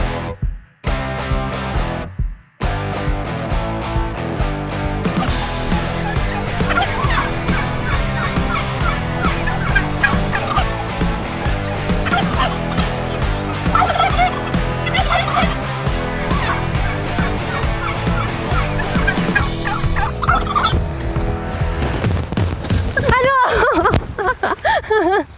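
A flock of turkeys gobbles loudly and continuously, a dense chorus of warbling calls close by, with voices talking underneath.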